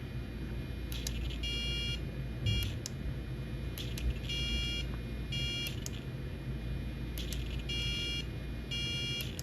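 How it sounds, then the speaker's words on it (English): Idle-up switch on a nitro RC car radio transmitter for a Traxxas Nitro Revo 3.3 emits repeated short electronic beep bursts in a steady pattern, clear over a constant low hum of the idling nitro engine. "when I hit C, my radio beeps to tell me that it's active."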